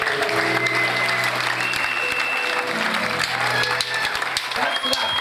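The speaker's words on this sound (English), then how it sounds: "Give the Lord a clap offering now." A church crowd at a huge children's and teenagers' Bible camp gives a sustained clap offering, dense steady applause filling the whole stretch, with a voice talking over it.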